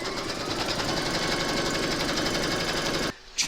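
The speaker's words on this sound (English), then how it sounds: "Pop your hoop into your machine and stitch round number 2 to secure it." Embroidery machine stitching a cherry coaster outline in the hoop, a steady rapid mechanical whirring and needle chatter running close and loud for about three seconds, then cutting off abruptly with a brief clunk at the end.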